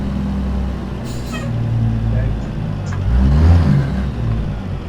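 A truck engine in American Truck Simulator revs loudly and steadily through a downshift, pitch rising near the end, with a brief hiss like an air brake and someone talking over it.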